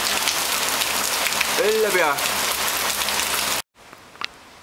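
Heavy rain pours steadily on a garden in Thailand as a dense, loud hiss, with a brief voice partway through, then cuts off abruptly near the end into near silence.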